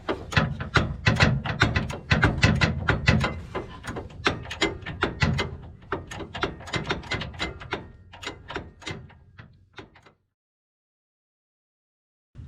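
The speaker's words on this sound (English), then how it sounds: "there's not a lot of room to move your wrench, like, so it's a slow tightening process" A ratchet wrench tightens a bolt on a 2020+ Chevrolet Silverado HD truck bumper, its rapid clicking pawl running in close, loud bursts that slow and thin out before stopping.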